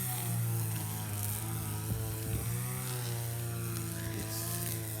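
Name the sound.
machine slashing grass in a compound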